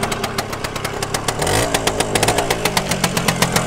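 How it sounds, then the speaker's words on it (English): A Suzuki RV125 two-stroke sand bike engine idles close by, a steady rapid popping beat with a brief blip of throttle midway, heard alone without talk. "Oh, listen to that. Nice bit of two-stroke. The engine actually sounds sweet."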